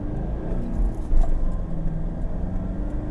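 A 2011 Toyota Fortuner 4x4 with a manual gearbox drives over a rough off-road track, heard from inside as a steady low engine and road rumble, with a brief louder jolt partway through.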